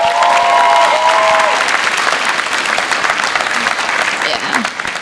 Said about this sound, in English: I think we should all give a loud clap and cheer to our Almighty God who made this happen.